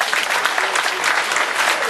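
Steady applause from a crowd at a televised bingo lottery show, dense and fairly loud, sustained throughout with no pauses.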